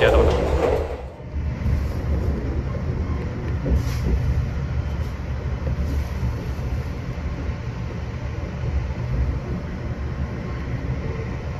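Steady low rumble inside the KA Manahan Tambahan executive train, with a brief loud burst at the start, then continuous rolling drone and faint clanks as it slows into Klaten station.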